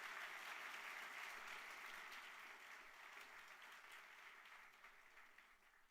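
Congregation applauding at a church service, steady broad clapping from a large crowd that fills the whole stretch and eases slightly toward the end, with no talk over it.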